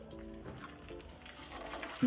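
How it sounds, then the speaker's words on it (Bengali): A spoonful of sesame, asafoetida and carom spice mix frying lightly in hot oil for Gujarati undhiyu, giving a faint, steady sizzle close by. "গুঁড়ো মশলাটা সেটা এক চামচ আমি গরম তেলের মধ্যে দিয়ে একটু হালকা ভাজা করে নেব"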